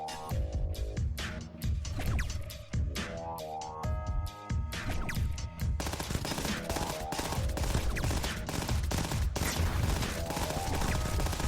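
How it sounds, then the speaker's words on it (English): A Torpedo Cannon firing in the video game Starward Rogue, with rapid repeated blasts and shots. Stepped electronic tones run under steady, loud game music throughout. "Plus, just like my Torpedo Cannon, it blasts through enemies."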